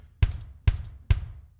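A punchy kick drum plays three evenly spaced hits, each with a sharp attack and a deep, quickly decaying low thump, loud and dry with no other sounds.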